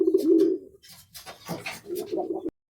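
Lakkha pigeons coo close by while they feed, in a few soft, low throaty bursts separated by brief rustling and pecking, with no voices.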